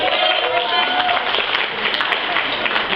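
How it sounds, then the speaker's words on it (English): A Kyani Super Saturday event crowd applauds the MC, a continuous wash of clapping with crowd noise and voices mixed in throughout. "Give her that applause"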